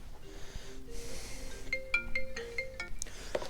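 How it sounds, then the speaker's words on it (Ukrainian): Electronic phone ringtone sounding in a workshop where a fuel tank for a DT-75 tractor is being welded, a short melodic tone pattern repeating at moderate loudness over faint background noise. "ще хтось дзвонить для повного щастя"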